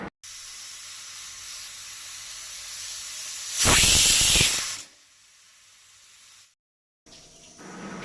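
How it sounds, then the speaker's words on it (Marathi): A pressure cooker on a gas stove lets out a loud burst of hissing steam for about a second, set between stretches of steady background noise and brief silence. "कुकर आता गॅसार दवरून 3 शिटयो काडपाक जाय।"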